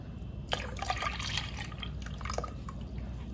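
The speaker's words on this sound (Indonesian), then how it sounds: "lalu kita masukkan krim, dan kita masukkan santan" Cream and coconut milk are poured into a mixture for a young-coconut pudding, making a steady close liquid trickle and splash with small drips, moderately quiet and with no voices.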